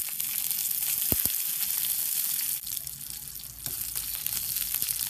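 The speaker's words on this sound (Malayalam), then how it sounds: "പൊട്ടിയിട്ടുണ്ട്, അതിലേക്ക് ഉള്ളി ഇടുകയാണ്." Sliced onions added to hot oil with popped mustard seeds for duck curry, giving a loud continuous high sizzle close up, with a couple of sharp knocks and a brief dip where the frying noise shifts.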